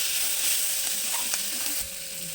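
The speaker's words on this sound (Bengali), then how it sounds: "ধনে পাতাও দিয়ে দেবো দিয়ে একটু এটাকে ভেজে নেব" Coriander leaves frying in a pan of chicken curry produce a steady, moderately loud sizzle and crackle close up, with a faint stir partway through and no voices.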